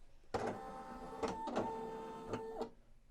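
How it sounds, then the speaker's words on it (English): The motorized embroidery carriage of a Brother SE1900 sewing and embroidery machine shifts into position with a series of whirring, stepping mechanical pulses and clicks. Close and fairly quiet, with no talking. "there's going to be a message saying that the embroidery carriage needs to move"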